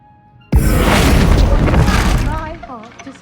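A Bombarda spell bursts in Hogwarts Legacy, a sudden loud explosive boom that rolls on and decays over a couple of seconds, followed by faint chirpy game sounds.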